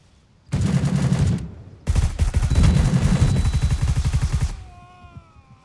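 Automatic gunfire in the shooter game Gray Zone Warfare, two loud close bursts of rapid shots, a short one then a longer sustained volley, followed by a quieter ringing tail.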